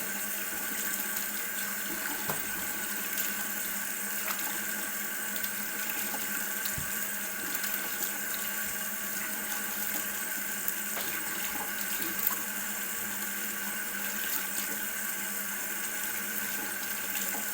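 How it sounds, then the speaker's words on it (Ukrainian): Steady running tap water streams continuously at close range onto hands while face-washing, a constant hiss with occasional faint splashes and no talking. "постійно ця вода тече на руку."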